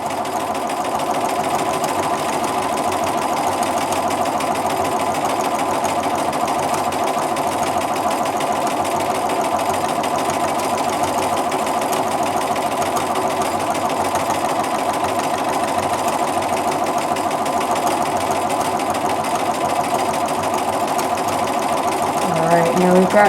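Sewing machine running continuously while stitching a checkerboard grid quilting design, a steady mid-pitched mechanical whir at even loudness that swells slightly near the end.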